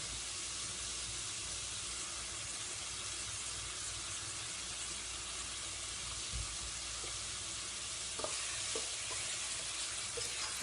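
Veg chicken korma being stirred in a hot pan, a continuous soft sizzle and hiss with a couple of faint spoon scrapes against the pan.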